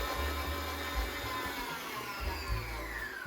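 Electric mixer whipping butter while nuts are chopped for nut cookies, a steady faint motor whir with a low rumbling underneath that shifts pitch now and then.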